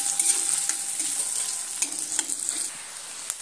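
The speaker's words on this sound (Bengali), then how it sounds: "পেঁয়াজগুলো দিয়ে সুন্দর করে একটু নেড়েচেড়ে একদম লাল লাল করে একটু পেঁয়াজগুলো ভেজে নেব" Chopped onions sizzle gently in oil as a spatula stirs them, with scattered scraping clicks against the pan over a moderate, continuous frying hiss.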